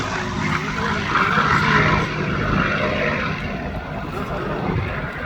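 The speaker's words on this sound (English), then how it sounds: "completing the 4-point roll for you, showing the maneuverability and agility of the P-51." A P-51 Mustang flying a four-point roll at an air show in Homestead gives off a steady propeller-engine drone. The roar is broad and sustained, with a crowd and voices underneath.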